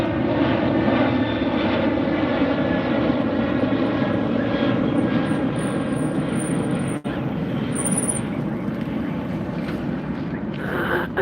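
An American Airlines jet at LAX near the beach at sunset roars loudly and steadily, a broad sustained engine rumble with a whining tone; a brief click breaks it once and no one speaks.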